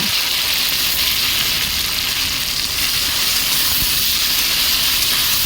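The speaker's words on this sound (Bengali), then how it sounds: "আলুগুলো লাল লাল করে ভাজা হয়ে গেছে, আগে থেকে পেস্ট করে রাখা মশলা দিয়ে দেব" Spice paste meets potatoes already fried red in a pan, giving a loud, even, hissing sizzle that stays constant and close with no talking.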